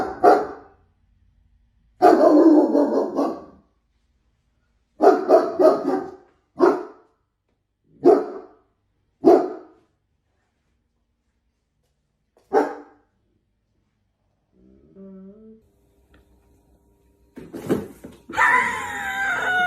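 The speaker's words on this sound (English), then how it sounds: "That's just my baby dog." A small dog barks loudly and repeatedly in sharp, spaced bursts close by, some yelps almost screechy, with quiet gaps between and a noisier burst at the end.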